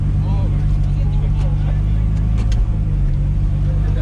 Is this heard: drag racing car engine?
yes